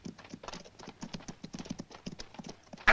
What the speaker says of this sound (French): Butch, voilà deux cavaliers qui arrivent